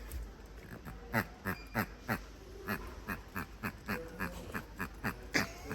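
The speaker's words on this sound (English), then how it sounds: "So I just found the squeaky duck, watch." A squeaky rubber duck dog toy squeaked close up about a dozen times in a quick, fairly even rhythm, each squeak short and sharp, with no talking.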